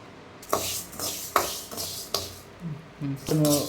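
Moong dal dry-roasting in a pan, with several sharp scraping stirs of a utensil against the metal and grains rattling, and a voice talking briefly near the end.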